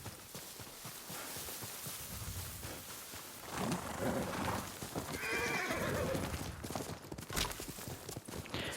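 A horse whinnies over a rumbling, rain-like background in Ghost of Tsushima, with hooves clopping and some game-style ambient noise throughout.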